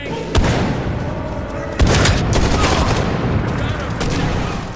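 Bursts of gunfire ring out in Medal of Honor Warfighter, with sharp rapid volleys and heavier booms in clusters over a few seconds, loud and close, with a voice faintly in the mix.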